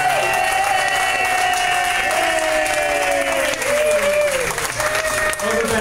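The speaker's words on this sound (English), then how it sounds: "We want a big round of applause for Stephanie." Loud, sustained round of applause from a crowd at a business lunch meeting in a Miami Beach restaurant, steady clapping filling the room with some cheering and chatter mixed in throughout.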